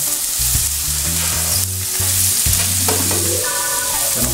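Beans and broccoli sizzling in a hot pressure cooker pot while being stirred, a loud constant frying hiss with clanks and scrapes of a utensil against the pot.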